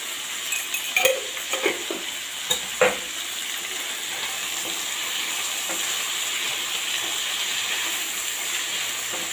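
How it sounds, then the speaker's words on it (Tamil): Ivy gourd sautés in a pan with salt and asafoetida, giving a steady, even sizzle with a few early scrapes and clinks of a stirring utensil. "இப்போ நம்ம கோவக்காய் வதக்கிறதுக்கு கொஞ்சம் சால்ட்டு உப்பு போட்டுக்கலாம்"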